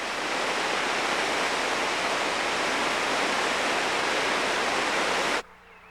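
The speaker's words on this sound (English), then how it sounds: "The steady, repeated whirring of water on rock cuts deep into the face of the land." Floodwater rushes over rock in a wilderness landscape, giving a dense, steady, loud roar that holds constant for several seconds and then cuts off abruptly to near silence.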